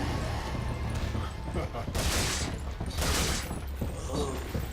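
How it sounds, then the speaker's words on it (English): A grenade explosion in Resident Evil 4 gameplay, with two loud bursts of noisy blast around the middle, set among ongoing game sounds and effects. "Grenade? Let's grenade. Grenade you."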